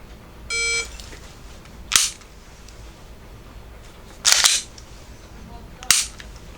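An electronic shot timer gives a short steady beep, followed over the next few seconds by sharp snapping dry-fire clicks and mechanical handling sounds from a pistol with a Mantis X sensor, all close and isolated.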